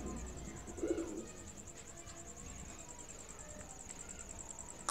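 Fancy pigeons cooing in Pakistan, low soft murmurs near the start under a steady background hiss and a continuous high chirping insect- or bird-like pulse throughout, fairly faint overall.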